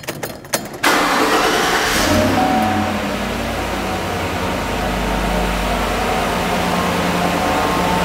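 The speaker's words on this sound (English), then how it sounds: "Just turn the truck on." A pickup truck engine cranks briefly, catches and starts, then settles into a loud, steady idle that rumbles on alone without any talk.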